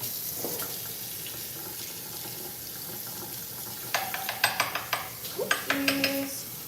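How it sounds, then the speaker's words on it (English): Kitchen sink sounds while oatmeal and chia seed pudding is prepared: a soft wash of running water, then a burst of sharp clinks and knocks of dishes and utensils near the end, close and moderately loud. "Please. Fill some water."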